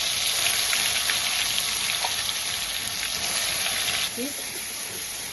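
Ground spice paste for a spicy chicken curry hits hot oil with cumin in a kadhai, giving a loud, dense, continuous frying hiss that eases slightly near the end.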